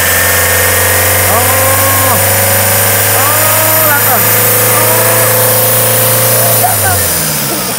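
A common rail diesel Toyota Innova engine runs loud and steady throughout, with a constant low hum that eases near the end, while someone talks over it.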